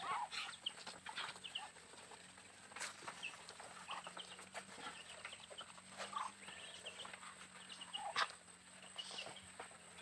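Geese, ducks and chickens at feeding time on a small farm, scattered clucks and squawks rising here and there over a quiet, steady background, fairly faint and without talk.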